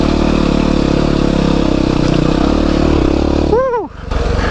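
A Yamaha WR250R dirt bike putters steadily and loudly while riding slowly up a trail in Japan. Near the end a rider lets out a brief vocal whoop and the engine drops away for a moment before picking back up.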